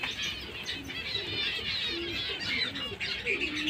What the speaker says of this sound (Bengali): আর এই সেই 7টা পায়রা এখন ওড়ানো হবে।